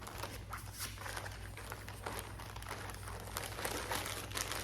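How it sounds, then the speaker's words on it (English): A plastic bag from a cross-stitch kit crinkles and rustles steadily up close, a continuous soft crackle with no talking. "so was this in a plastic bag?"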